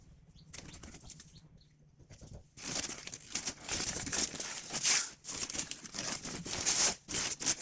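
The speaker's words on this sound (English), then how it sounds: "remove all the duct tape and the masking from around the suspension parts" Duct tape and masking peeled off painted brake calipers and suspension parts, a long run of ripping, crinkling tearing that grows louder and busier after a quieter start, with sharp bursts of tape pulling free close to the mic.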